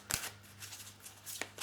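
Oracle cards of angels and crystals being shuffled and drawn, a few soft close riffling bursts with quiet pauses between them.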